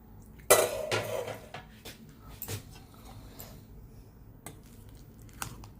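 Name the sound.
opening pressure cooker lid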